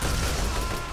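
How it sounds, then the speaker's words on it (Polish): In the video game Borderlands, a dense, loud explosive roar fills the whole moment, broad and rumbling like heavy blasts or gunfire going off together. "Co to za wybuch? Jakieś nuklearne wybuchy są."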